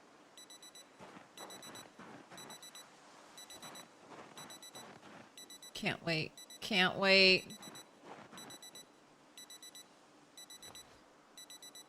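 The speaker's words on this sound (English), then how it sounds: "I should dismantle all of these so I don't have to hear watch noise." Digital wristwatch alarm in the Project Zomboid video game, a repeating high electronic beep pattern in regular bursts throughout, with a voice briefly speaking midway.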